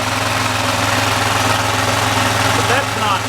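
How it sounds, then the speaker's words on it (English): A Hollingsworth air compressor engine fitted with a new muffler runs steadily nearby, a loud, even mechanical chugging with a low rhythmic pulse and muted exhaust, while a voice talks over it. "The report of the exhaust is a lot quieter. You just hear the mechanical sound of the engine."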